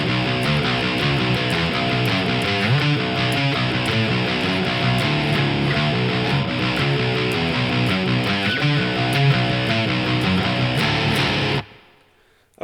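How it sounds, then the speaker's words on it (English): Rock guitar playing the next section of a song, a steady, loud, dense riff with full strummed chords that runs for about eleven seconds and then cuts off abruptly into silence. "Okay, the next part of the song sounds like this."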